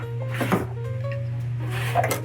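Small drawers on a wooden workbench in a woodworking shop slide open or shut in two short knocks over a steady electrical hum, with no voices.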